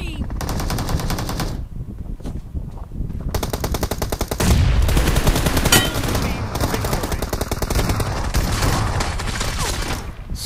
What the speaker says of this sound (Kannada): ಶಾರ್ಟ್ ಗನ್ ಹೊಡಿತೆ, ಶಾರ್ಟ್ ಗನ್ ಅಂದೆ